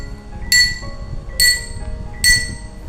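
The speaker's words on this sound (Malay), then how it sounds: "gelas yang kosong tu menghasilkan pitch tinggi" An empty drinking glass is tapped three times at an even pace, each strike giving a bright, high-pitched ring that decays quickly over a soft background hum.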